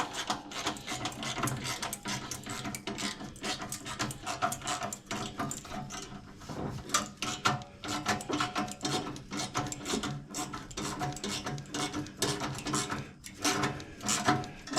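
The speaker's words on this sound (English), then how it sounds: "That is a 1/4 inch socket to take that loose." Quarter-inch socket ratchet loosening the exhaust heat shield clamp on an Indian Challenger motorcycle, giving a steady run of dense mechanical clicking and rattling up close, continuous throughout with no talking.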